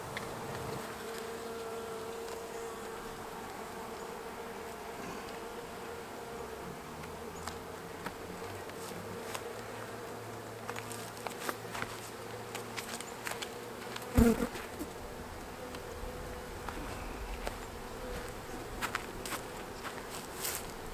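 Honey bees buzz steadily around hives in a spring apiary, a continuous soft drone of many insects with occasional faint knocks and footsteps, no talk.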